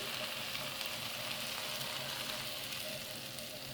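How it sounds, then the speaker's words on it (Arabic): Meat broth poured into a pot of basmati rice gives a faint, steady sizzling hiss that continues evenly throughout. "اللحمه بقى اللي انا سلقتها طبعا في شوربه، فهحط لها كده جزء من الشوربه"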